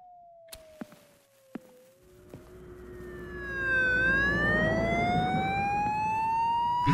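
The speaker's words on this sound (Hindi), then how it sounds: "मुझे साइरन सुनाई दे रहा है कहीं पे" A rising and falling siren wails inside a horror video game, starting after a few sharp knocks and swelling louder as several harmonic tones sweep upward together, steady and sustained to the end.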